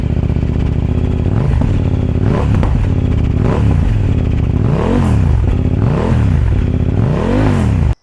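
A 2022 KTM Duke 890R motorcycle with an Akrapovic exhaust revs hard several times, loud and close, with rising and falling engine sweeps over a heavy idle rumble and no talking.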